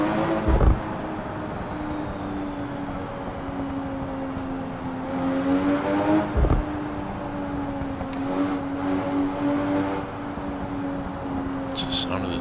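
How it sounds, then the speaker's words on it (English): A turbocharged car engine holds a steady, droning idle up close, broken by a couple of sharp, brief backfire pops. "It's the sound of the turbo and the engine and the slight backfires."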